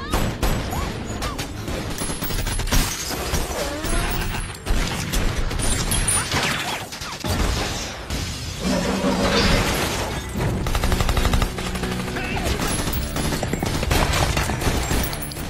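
Dense gunfire in a war film shootout, with rapid bursts, booms and crashes layered over a loud soundtrack, continuous and heavy throughout.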